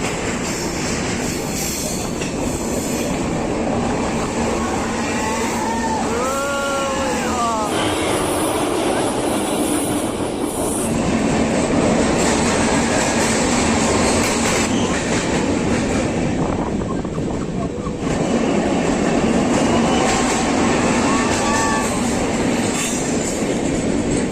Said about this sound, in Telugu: జర్నల్ నెంబర్ పదమూడులోకి అయితే ఎంటర్ అవుతున్నాం మనం ట్రైన్ అయితే స్లోగా వెళ్తుంది